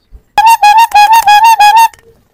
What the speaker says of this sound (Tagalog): Yan, may pito